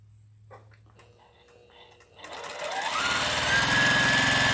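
A home sewing machine stitches fabric, starting after a quiet stretch of faint handling and then running in a continuous, close, loud whir that speeds up and holds steady to the end.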